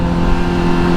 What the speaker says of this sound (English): I love the sound of this exhaust with or without the muffler